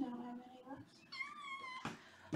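A cat meows repeatedly in drawn-out, rising wails, close by and fairly loud, with a few quiet words spoken nearby.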